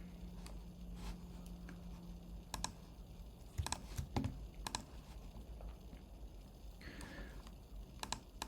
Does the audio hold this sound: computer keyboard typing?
yes